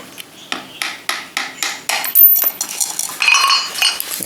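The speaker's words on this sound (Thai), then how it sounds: "นี่เราจะต้องทำการตอกแกนมันออกนะครับ" Sharp metallic hammer strikes ring out in a steady rhythm, over a dozen close blows driving the shaft out of a leaking multiport valve, with a bright, clinking tone.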